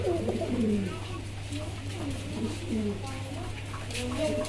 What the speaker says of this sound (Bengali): মাশাল্লাহ একজোড়া জিরাফ গলা কবুতর মাল্টেস